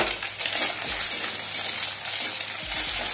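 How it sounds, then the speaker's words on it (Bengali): Beaten egg goes into onions already fried in a pan, raising a close, crackling sizzle with light stirring and a few metallic utensil clinks, no talking. "দেখো পেঁয়াজ আমার ভাজা হয়ে গেছে, এতে আমি ডিম অ্যাড করব।"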